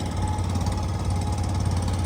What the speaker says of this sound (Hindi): तो भाई हो गया इंजन स्टार्ट, हम चल रहे हैं आगे।